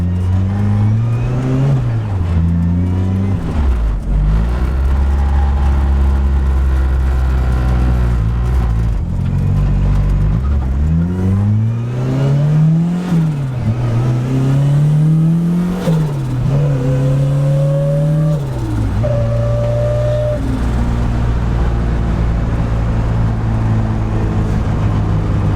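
A Honda EF Civic Si drives hard on a winding road, its engine rising and falling through repeated revs and gear changes, loud and close from inside the car with a steady underlying drone.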